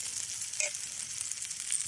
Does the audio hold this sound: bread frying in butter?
yes